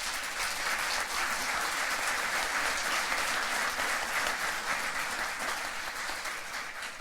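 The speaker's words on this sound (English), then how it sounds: "So big round of applause, Peter Muck, Blake Rogers, Ioannis, Pappas, Gwendal," An audience applauds panelists at a tourism and climate change conference session in Aysen, Chile, producing steady, dense clapping that holds for about seven seconds and eases slightly toward the end.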